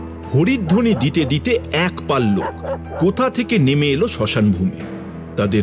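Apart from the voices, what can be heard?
dogs barking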